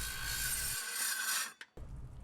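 A skill saw fitted with a diamond blade grinds through an exterior stucco wall with a loud, harsh, sustained rasp and whine, then cuts out briefly before a short burst of cutting resumes.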